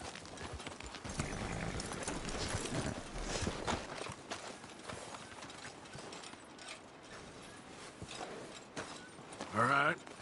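Horses walking in the video game Red Dead Redemption, a soft rhythmic clip-clop of hooves with faint creaking tack, quiet and steady, with a voice speaking briefly near the end.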